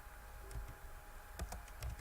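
Quick bursts of computer keyboard typing while entering text on a sign in Minecraft, soft clustered keystrokes close up with no talk.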